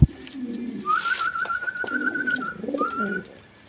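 Pigeons coo in low, rolling murmurs close by underfoot, broken by a sustained whistle-like tone and a few soft knocks; no one speaks.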